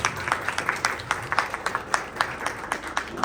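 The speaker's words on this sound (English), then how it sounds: "this calls a big round of applause for all the parents" At a school Parents Day celebration, a modest audience claps for the parents, the individual hand claps sharp and distinct in a loose, uneven patter that continues without any voices.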